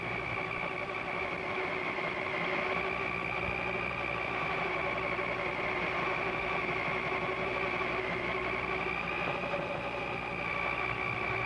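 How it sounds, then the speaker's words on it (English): KM3000 keyseating machine powered by a 1 hp universal motor, running steadily with a continuous mechanical hum and whine at moderate level, unbroken throughout with no voices. "The 1 horsepower universal motor is designed for this kind of application."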